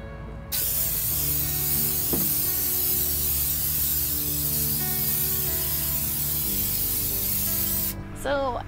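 Continuous close hiss of an aerosol spraying shellac over a painted bookshelf, running steadily for about seven seconds before stopping abruptly, with no voices.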